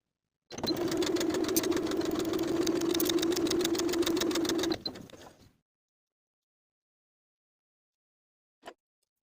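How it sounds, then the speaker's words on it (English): A sewing machine stitches a dart in fabric scraps for a women's top, running in a fast, even mechanical rattle for about four seconds before stopping, followed later by a single soft click. "I'll sew the dart in place from the outside edge to the point"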